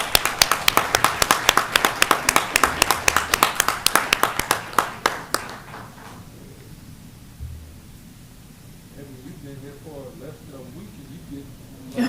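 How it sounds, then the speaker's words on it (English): Applause breaks out for staff at a Board of Regents meeting, a dense burst of many people clapping for about five seconds before fading into quiet room tone with faint voices. "So a round of applause for our admins."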